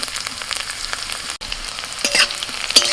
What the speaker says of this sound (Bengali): রসুনটা একটু ভাজা হলে দিচ্ছি পেঁয়াজ কুচি